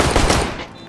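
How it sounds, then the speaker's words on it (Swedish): A loud, close burst of rapid gunshots from the video game Counter-Strike: Global Offensive that quickly fades out within a second. "Tre skott, Christian."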